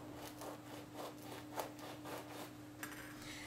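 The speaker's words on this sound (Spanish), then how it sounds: "Voy a cortar primero con un cuchillo más pequeño de sierra." A small serrated knife saws through a baked choux pastry ring in quick back-and-forth strokes, faint and close over a low steady hum.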